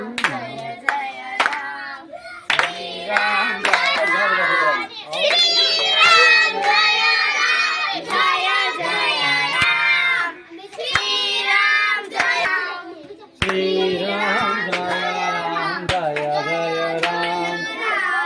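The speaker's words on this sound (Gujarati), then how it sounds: "એકદમ તાળીઓ પાડો એકદમ" Children at a temple bal sanskar class clap their hands in rhythmic bursts while chanting together, the claps sharp and close under sung voices, pausing briefly between phrases.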